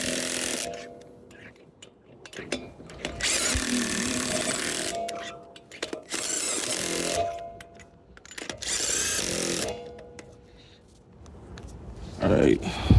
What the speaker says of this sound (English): now we're gonna use this impact gun